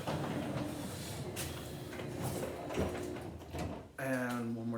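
A garage door opener raising a small garage door, a steady mechanical rumble and rattle running for several seconds, then stopping with a thud and a brief change in tone as the door settles.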